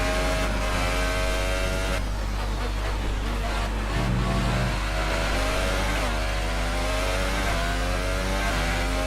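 A Williams Formula 1 car in the F1 2018 racing game at the Canadian Grand Prix, its engine screaming loud and close, with rising gear-by-gear revs and a brief downshift blip midway, no voices over it.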